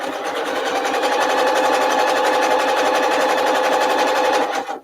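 A sewing machine running a tiny zigzag stitch at 0.4 stitch length and 5.0 mm width: a loud, fast, even mechanical chatter that holds steady for several seconds, then stops.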